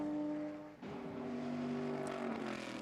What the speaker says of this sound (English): to listen to Antonio Garcia go through there, he was firmly in the throttle